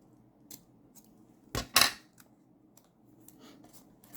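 Scissors snipping away excess material while making a steampunk-style cover: two sharp close cuts in quick succession, with a few fainter clicks and handling noises around them in a quiet room.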